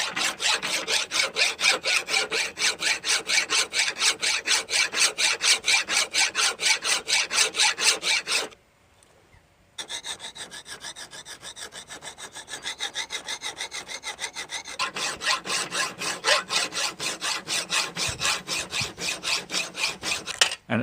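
A hand file working the bevels of a blacksmith hammer forged from a wood-splitting maul, fast regular rasping strokes, loud and close, with a brief pause before the filing resumes at a slightly lighter level.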